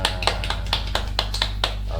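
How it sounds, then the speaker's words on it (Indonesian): Children clapping their hands in a classroom, a string of sharp, evenly spaced claps at a brisk rhythm, close and clear over a low steady hum. "Tepuk tangan untuk kalian semua."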